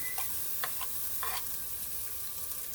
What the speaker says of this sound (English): On medium-high heat, about a tablespoon of olive oil. All right, onions and peppers into the pan.